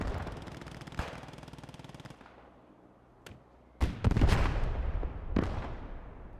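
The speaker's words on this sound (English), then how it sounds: "They call them mortars now as well." Mortar barrage called in by an enemy commander in the Post Scriptum video game: distant sharp cracks at first, then a heavy close blast followed by rolling booms and another impact, with no talk.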